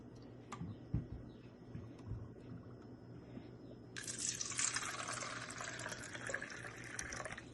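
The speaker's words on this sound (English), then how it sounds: "Now, we're gonna pour some water on each cup" Water is poured into plastic cups, a soft bubbling trickle that swells into a fuller splashing pour partway through. It is heard close and alone, with no talk.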